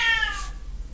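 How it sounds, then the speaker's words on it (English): A cat meows once, fairly close and clear, a short rising-falling call that fades into a quiet room hum with no talk during it. "You can hear my cat in the background."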